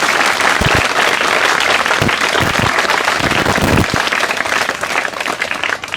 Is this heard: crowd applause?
yes